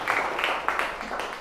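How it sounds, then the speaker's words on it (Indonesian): Brief applause from a class in an Indonesian teacher-training session, a short burst of scattered clapping with a few distinct hand claps, fairly close and moderately loud. "tepuk tangan buat berdua ya"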